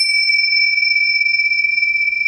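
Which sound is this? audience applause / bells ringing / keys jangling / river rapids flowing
bells ringing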